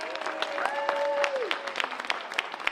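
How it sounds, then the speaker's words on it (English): Applause from a concert audience for the performing team rises in quick scattered claps, quieter and somewhat distant, while voices call out and a sustained tone carries over it. "So big round of applause for them."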